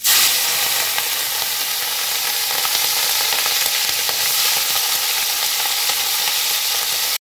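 Prawns lightly frying in a pan for a bottle gourd and prawn curry give off a loud, steady, dense sizzle that runs unbroken for several seconds and cuts off abruptly at the end.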